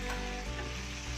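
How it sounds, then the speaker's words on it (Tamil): Onions sizzling and frying steadily in a pan for Chettinad chicken gravy, a dense, continuous close crackle with no talking. "வெங்காயம் நல்லா வதங்கிடுச்சு."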